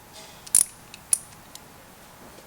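Wrench work on the clutch cover bolts of a Yamaha XS motorcycle in a garage: a few faint, sharp metallic clicks and ticks separated by quiet pauses, close by.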